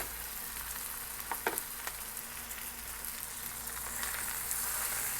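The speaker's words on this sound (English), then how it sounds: "Let's put the beef in." Medium ground beef hits a pan of sautéing onions and garlic and sizzles steadily, with a few sharp scraping and stirring clicks as it gets broken up; the frying grows slightly louder toward the end and no one speaks.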